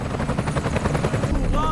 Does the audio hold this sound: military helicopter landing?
yes